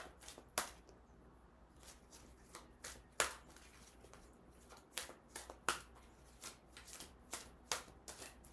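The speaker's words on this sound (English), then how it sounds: "Let's shuffle these out and see if anything pops out." A deck of tarot cards is shuffled close up, crisp riffling snaps repeating in an uneven rhythm, quiet and alone with no talking.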